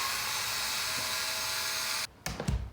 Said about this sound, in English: first I'm gonna unscrew the old stuff with my handy dandy electric screwdriver